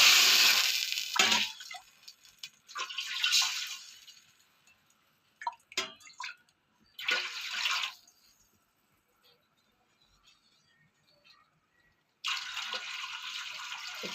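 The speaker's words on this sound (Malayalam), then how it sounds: "അതിലേക്ക് ഒരു 8 ഗ്ലാസ് വെള്ളം ഒഴിക്കുന്നുണ്ട്" Eight glasses of water are poured one after another onto a kilo of rice in a pot, giving short splashing bursts separated by quiet pauses, with small knocks and clinks in between.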